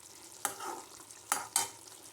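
Egg curry is stirred slowly and carefully in a pan: three soft scraping strokes over a faint steady simmer, close and quiet with no voices.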